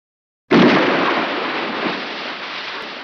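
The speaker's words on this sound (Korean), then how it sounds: "물에 빠지는 소리가 새벽 공기를 갈랐습니다." A sudden heavy splash of a body falling into the sea bursts in after a moment of silence, then a long wash of churning water fades slowly.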